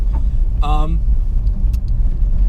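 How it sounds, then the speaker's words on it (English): A Citroën Saxo 1.1 hatchback rolls along a rough private road, its engine and road noise a steady low rumble throughout, heard from inside the cabin while someone speaks briefly over it. "It deals with bumps reasonably nice, because this is a rough road."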